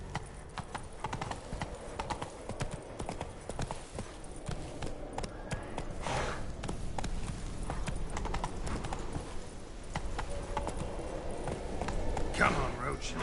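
Roach, the horse in The Witcher 3, plods along with steady hoof clip-clops throughout, a bit louder toward the end, under light background sound and a voice talking.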